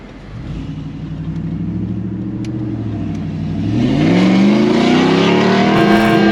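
V8 fourth-generation Toyota 4Runner with its exhaust cutout open, engine rumbling low and then revving up, pitch climbing and getting louder toward the end, close and loud with no voices over it.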